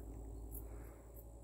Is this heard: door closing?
no